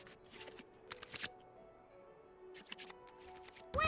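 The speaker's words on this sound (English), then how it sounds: "we can select any number of cards in our hand to shuffle back into the draw pile, and then draw the same number of new cards" Card-shuffling effects from a digital dice-and-card battle game as cards return to the draw pile: a few quick papery riffles and flicks in short bursts, with a sharper snap at the end, moderately quiet and with no talking.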